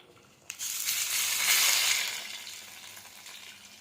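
Hot oil tempered with curry leaves and green chilies is poured onto chicken, setting off a sudden loud sizzle that swells for a second and then slowly fades to a gentle crackle.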